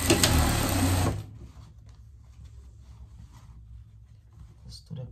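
A sewing machine stitches a pet vest in one loud, fast whirring burst lasting about a second, followed by quiet handling noises and faint clicks.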